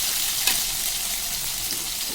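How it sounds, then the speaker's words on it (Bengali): Potatoes frying in hot oil in a wok, a steady close sizzle that holds evenly throughout, with one brief louder crackle early on and no voices. "আলুগুলোকে ভালো করে ভেজে নামাবো।"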